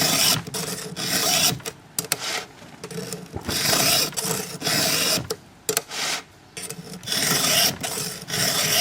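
Hand filing of chainsaw chain teeth with a file held in an Oregon file holder: rhythmic push-pull rasping strokes, close and fairly loud, in repeated bursts separated by brief pauses, with no talk.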